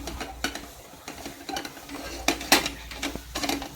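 A spoon scrapes and clinks against a kadhai while mixing paneer with powdered sugar and milk powder for peda, making irregular sharp knocks and scrapes at a moderate level with a light sizzle and no talk.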